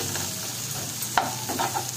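Tomatoes are stirred and mashed in a frying pan with fried onion for a chicken masala curry, with a steady sizzle under sharp spoon-on-pan scrapes and knocks close by.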